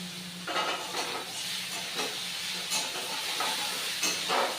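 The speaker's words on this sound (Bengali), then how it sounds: "এই যে মাছের মাথা দুটো এখন এর ভেতরে দিয়ে দেবো" Rohu fish heads dropped into a pan of frying cauliflower set off a steady close sizzle, with repeated bursts of crackle and stirring scrapes throughout and no voices.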